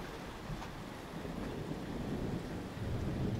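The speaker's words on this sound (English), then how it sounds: "And there you can hear the thunderstorm." Rumbling thunderstorm at the Oropa sanctuary in the Italian mountains, a steady low roll of thunder with rain-like hiss, swelling slightly louder toward the end.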